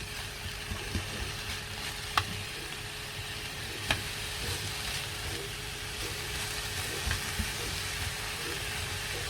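Thinly sliced onions sizzle softly in a pan over a long, steady cook, with a constant low frying hiss and a few faint utensil taps.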